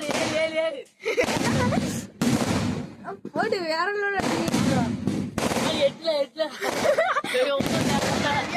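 Firecrackers burst in dense, rapid crackling volleys, loud and close, almost continuous across the stretch, while people shout and talk excitedly over them.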